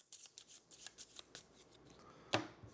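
Board game cards for Aeon Trespass Odyssey are shuffled quietly at close range, a quick run of soft riffles and flicks that ends in one sharper snap as the deck squares up.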